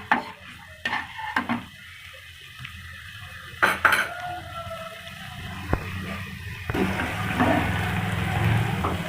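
Ginger-garlic paste frying in a pan for a chicken kachori filling, with metal utensil clinks and scrapes against cookware giving way to a steadier, louder sizzle toward the end.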